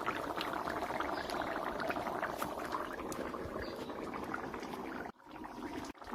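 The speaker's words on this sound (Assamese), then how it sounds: "ধুনীয়াকৈ উতলি আছে আঞ্জাখন।" Taro (arum) curry boiling in a pot, a steady close bubbling and simmering that continues for several seconds before a brief break and resumes more quietly.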